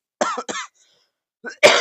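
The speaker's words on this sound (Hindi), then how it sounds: "कभी कभी खांसी आ जाए, इसके लिए सो सॉरी" A teacher with a sore throat coughs twice close to the microphone, then gives a short throat-clearing cough in a quiet room.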